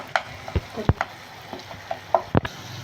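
Raw mango pieces frying in a pan, with sharp scrapes and taps of a spoon stirring over a faint sizzle, sparse and close.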